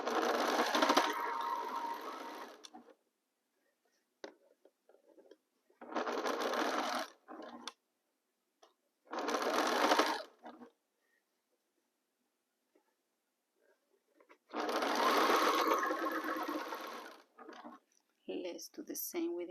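A sewing machine stitches a fabric seam for a pinwheel star quilt block in four loud separate bursts of rapid running, with quiet gaps and small handling clicks between them.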